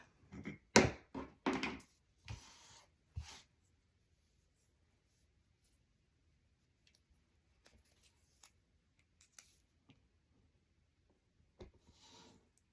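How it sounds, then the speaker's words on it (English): Paper pieces being taped up for a scrapbook album page, with a cluster of rustling, tearing and pressing sounds early on, then faint scattered taps and small handling noises in a quiet room. "let's get these taped up"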